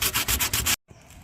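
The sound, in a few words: sanding rust off a car body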